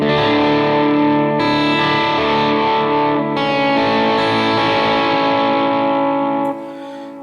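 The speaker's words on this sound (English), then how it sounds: "So after you put delay and reverb, this is what the tone sounds like now." An electric guitar through a Line 6 HX Stomp plays sustained worship-style chords drenched in delay and reverb, notes echoing and trailing into a spacious wash before fading.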